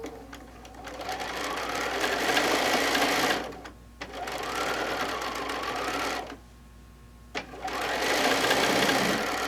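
A sewing machine stitches a quilt block in steady whirring runs. Three bursts of stitching are separated by short pauses, close and clear, with no talk.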